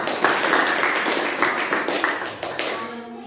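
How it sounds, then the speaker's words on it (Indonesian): Short burst of classroom clapping in a social studies lesson, a few seconds of close, brisk hand claps that trail off quickly. "tepuk tangan dulu"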